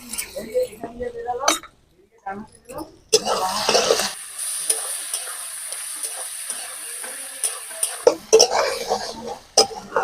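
Ground spice paste for a river fish curry hits a hot pan and fries with a loud hiss, stirred with clinking scrapes; a voice talks before and after the frying.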